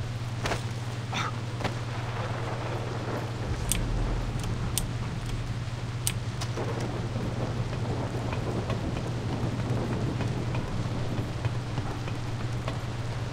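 Steady downpour of rain in a thunderstorm in Far Cry 3, heard from high on a giant metal structure, with sharp crackling lightning strikes and rumbling thunder breaking through the constant hiss.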